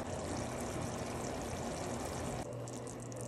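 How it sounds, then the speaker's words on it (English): Beef broth is poured into a pot of keto red chili with beef, a close, steady splashing pour that continues for about two and a half seconds before easing into a softer trickle. "Okay, added some beef broth in here."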